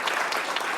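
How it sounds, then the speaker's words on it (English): Conference audience applauding the speakers after a panel session, a brief burst of dense, steady clapping heard alone. "And as we're applauding"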